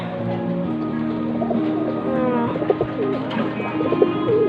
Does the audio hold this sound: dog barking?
no